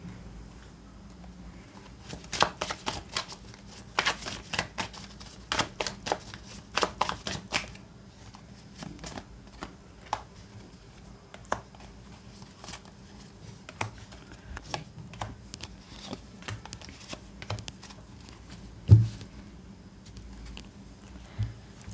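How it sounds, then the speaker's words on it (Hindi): Tarot cards are shuffled and drawn, giving a quiet run of soft papery flicks and taps with denser bursts early on and sparser snaps later, no talking. "इसके साथ और कार्ड्स लेते हैं।"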